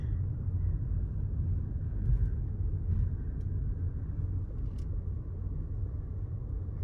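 Steady low vehicle rumble from a car rolling up a very long paved driveway toward a house, even and continuous throughout with no voices.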